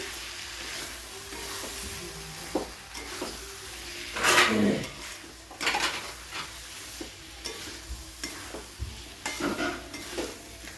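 Chunky tomato pieces sizzle in a pan of fried onions while being stirred, a steady close frying hiss broken by repeated scraping and clattering stirs, for a fish curry.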